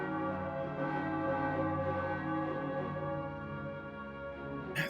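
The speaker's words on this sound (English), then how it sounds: "Let the bells of Carolong ring proud" Bells of Carolong ring in a video game, a sustained, faint, metallic chime with long overlapping overtones that hums steadily throughout.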